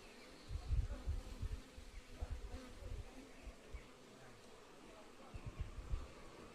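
Honeybees around a hive, a faint low buzzing that swells in short bursts and fades, with quiet rustling between.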